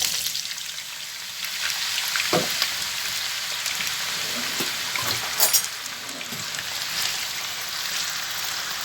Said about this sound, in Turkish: Yağım kızdı arkadaşlar. Şimdi patateslerimi tavamın içerisine alıyorum.